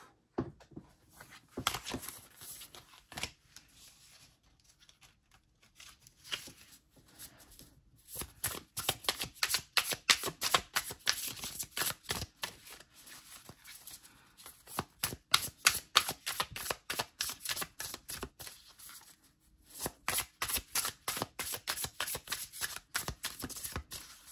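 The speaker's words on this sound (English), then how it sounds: "Oh, shoot, y'all. These cards are flying all over the place." A deck of oracle cards being shuffled over and over in fast riffling bursts, with short pauses between rounds and a steady patter of card edges close up.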